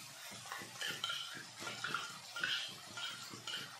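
Yogurt paste going into frying onions in a home kitchen pan for spicy jackfruit curry, heard as steady soft stirring and scraping with faint sizzle and light utensil clinks against the pan, no talking.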